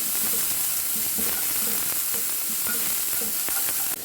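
Green chilies and curry leaves sizzle in hot oil in a frying pan, with a steady loud crackle and faint scraping as they are stirred, all close up.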